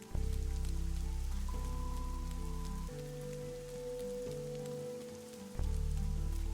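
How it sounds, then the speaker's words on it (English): Rain falls in the video game Fall of Porcupine, a steady dense patter layered under sustained tonal game music that shifts chords every few seconds. "I really love rain. It's nice and cold. And wet."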